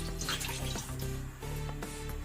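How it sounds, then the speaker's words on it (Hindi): Water is poured from a glass into a cooking pot on a lit stove, a continuous splashing trickle with a few brief breaks and small knocks, close and fairly quiet. "ये पानी हम डाल देंगे अपने इस बर्तन में।"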